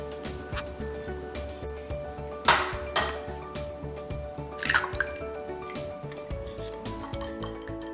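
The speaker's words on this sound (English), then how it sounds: "Let's mix the dry ingredients together." Dry ingredients for keto cheesy biscuits are mixed in a bowl with a utensil, giving light scattered clinks and taps, two brief louder scraping bursts, and a quiet background.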